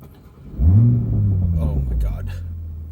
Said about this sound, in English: if you heard that, that was the warm startup, which was amazing